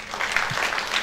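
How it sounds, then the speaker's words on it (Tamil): Audience applause at a film audio launch event: a short, steady wash of clapping at a moderate level, with no voice standing out over it. "அதெல்லாம் வந்து இன்னும் பலத்த கைத்தட்டிலே கொடுக்கலாம்."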